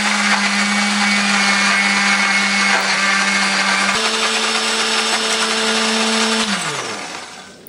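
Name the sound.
blender grinding shallot, garlic, ginger, coriander, turmeric spice paste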